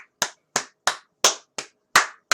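Hands clap for a dance: six sharp, close claps spaced evenly with a brief pause before the last pair, and nothing else in between.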